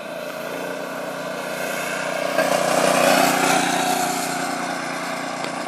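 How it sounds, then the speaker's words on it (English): A Predator minibike's small engine runs steadily nearby, its droning hum swelling slightly midway and then settling back without any clear revving. "Mike, riding my mini bike"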